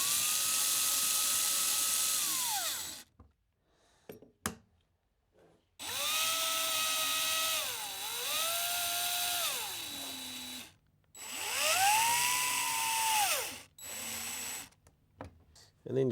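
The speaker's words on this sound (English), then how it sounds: "Let's just put our last screw in." A power drill drives a screw into a pre-drilled, glued wooden treasure chest box: three sustained whining runs that dip and rise in pitch as the motor loads, plus a short final burst, separated by quiet pauses.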